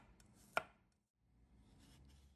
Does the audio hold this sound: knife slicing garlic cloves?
yes